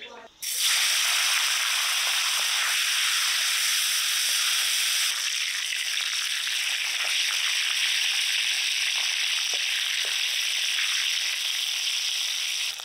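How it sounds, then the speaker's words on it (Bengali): Loud, steady sizzling of a hilsa fish head frying in hot oil, a dense close hiss that starts abruptly and holds throughout. "এবার এই তেলে ইলিশ মাছের মাথাটা ভেজে নেব।"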